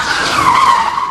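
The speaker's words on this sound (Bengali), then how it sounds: "বাবা রে বাবা, কি ব্রেক মারিছে, প্যাসেঞ্জার শুদ্ধ পড়ে গেছে।" A van brakes hard and its tyres skid in one loud, close screech that lasts about a second.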